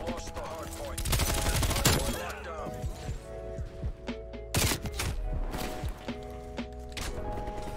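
Suppressed MP5 submachine gun fire in Call of Duty Cold War comes as short muffled bursts and scattered single shots over game ambience, with sharp clatter and impact cracks between volleys at mid distance.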